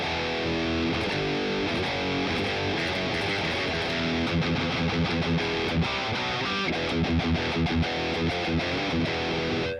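An electric guitar plays through a Boss Katana MKII amp with overdrive and a Blues Driver boost, giving a loud, continuous, gritty tone with chugging rhythmic chords and no talking.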